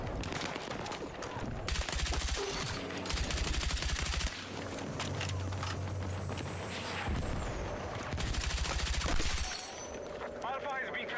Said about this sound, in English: I'm having difficulty tap firing my shit right now